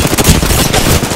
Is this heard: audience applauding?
no